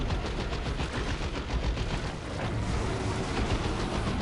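Rapid gunfire in Warhammer 40,000: Dawn of War 2 The Last Stand strikes units in dense, continuous bursts of automatic shots, loud and close, a steady rattling barrage with no pause and no voices.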